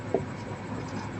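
Soft scratching of writing on a board during a Class 10 maths lesson on real numbers, faint and brief, with one small tap near the start.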